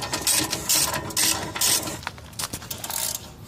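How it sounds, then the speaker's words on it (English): Ratchet clicks in quick rhythmic bursts, close and clear, while removing the 12 mm bolt holding the solid brake line on a 2003 Toyota 4Runner during a brake job. "He's removing 12 millimeter holding that solid brake line"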